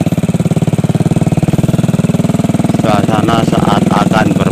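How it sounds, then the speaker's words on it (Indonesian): A small motorcycle putters along a footpath through rice fields in an Indonesian village at dusk, its engine a loud, close, rapid chugging pulse that runs steadily throughout, gaining a rougher buzzy texture in the last second and a half. "juga naik motor ya"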